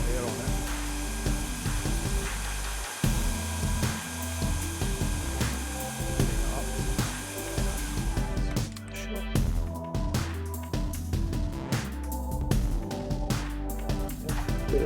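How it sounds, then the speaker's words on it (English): An air blower hisses steadily and loudly close by, clearing hardened material from an IBM 5151 monitor, its rush shifting partway through with a rattling, fluttering edge. "So I've borrowed an air blower to get these off."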